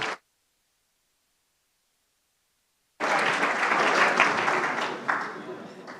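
A brief burst of sound, then silence, then warm, sustained applause from a dinner audience at a conference, clapping for the presenters and filling the last three seconds.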